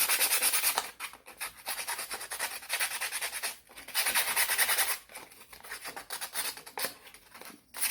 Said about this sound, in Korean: 이거 페이퍼로 사포질을